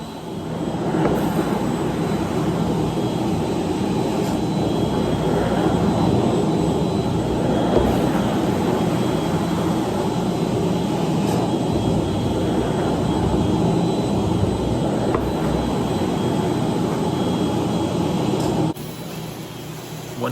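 A professional carpet cleaning extractor makes a dry pass over heavily soiled, pet-stained carpet, pulling out moisture and dirt. A loud, steady motor roar with a high whine runs unbroken, then cuts off sharply near the end.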